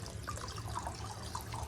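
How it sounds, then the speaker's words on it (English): Hydrogen peroxide poured into a container of water used for rinsing plant roots with root rot, a brief soft trickle and light dripping, close and fairly quiet over a low background hum. "I'm gonna actually pour some peroxide into this water."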